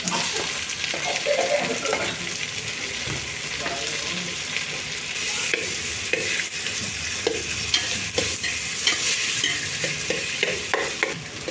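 Macaroni with green peas is stirred in a pot on an induction cooktop, with a steady sizzle and frequent scraping spoon strokes, close up and with no talk.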